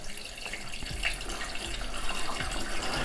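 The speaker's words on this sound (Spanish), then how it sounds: "y voy rellenando el acuario." Water pours steadily into a home aquarium during a water change, a close continuous splashing and trickling with faint bubbling, and no talk over it.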